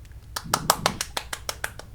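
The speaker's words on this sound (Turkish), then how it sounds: "Alkış, alkış, alkış." About ten sharp claps in a quick, fairly even rhythm, close by, with a soft rumble underneath.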